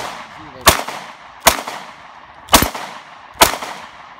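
A Diamondback DB9 pistol fires after a sand test: four sharp, loud shots spaced about a second apart, each with a short ringing decay, standing alone against quiet outdoor background.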